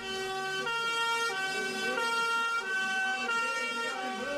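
A fire truck siren leads a bicycle ride escorted by military police motorcycles. Its loud, steady wailing tones step up and down in pitch without a break.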